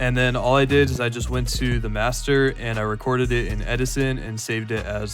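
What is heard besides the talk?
None of the usual background noises is heard.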